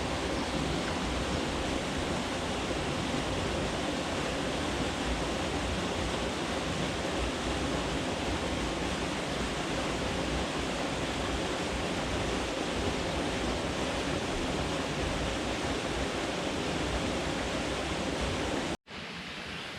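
Small waterfall at Pewits Nest in Wisconsin, a steady broadband rush of falling water that continues without a break and stays loud and close, cutting off abruptly just before the end.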